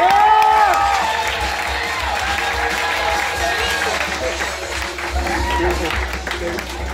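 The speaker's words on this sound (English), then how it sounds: "Clap it up as loud as you can for Joel Walkowski, guys." A comedy roast crowd claps, cheers and whoops for a roaster walking up, a loud dense roar of applause with whistles and excited voices sustained throughout.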